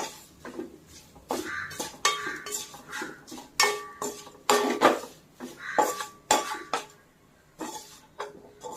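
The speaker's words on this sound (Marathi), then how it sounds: "थोडस लाल तिखट हलवल्यानंतर लगेचच आपण त्यामध्ये तळलेले पोहे हे ओतायचे आहेत" A metal spoon stirs red chili powder in a pan while making poha chivda, giving repeated scraping clinks in irregular bursts with short pauses, close and fairly loud, with no talking.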